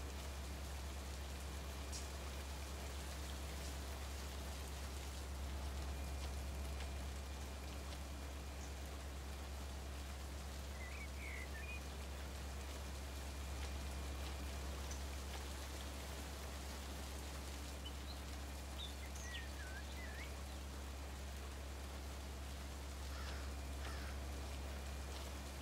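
Steady rainfall in the Run 8 Train Simulator video game, a constant hiss of drops over a low background hum with faint scattered chirps, no talk.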